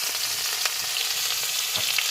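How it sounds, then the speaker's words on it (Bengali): Chopped onion sizzles in a pan of hot oil with tempering spices. The crackling fry is steady and close, with a few louder pops and no voices. "এবার পেঁয়াজ কুচিটা দিয়ে দিচ্ছি।"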